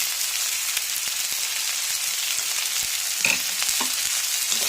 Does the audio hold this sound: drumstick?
yes